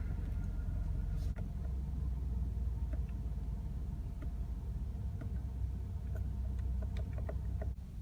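A 2019 Ford F-150 Limited pickup with Raptor power, its engine turning over and settling into a low, steady idle rumble, heard from inside the cab with faint clicks over the drone.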